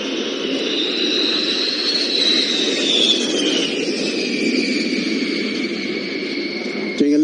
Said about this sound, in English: here's the B-52 coming through.